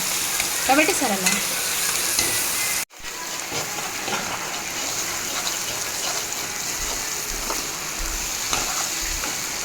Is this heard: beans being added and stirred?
yes